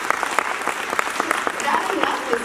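Scattered audience clapping in a keynote hall, a sparse patter of individual claps rather than a full ovation, with some murmuring in the room.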